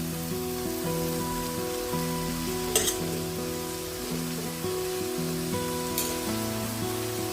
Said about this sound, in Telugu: ఇప్పుడు దీనిలో మనం కట్ చేసి పెట్టుకున్న తోటకూర వేసేసుకుందాం.